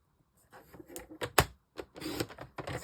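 Cardstock strips are cut for card making with a series of close, crisp slicing and sliding sounds, several separate cuts with short pauses as the paper is moved along.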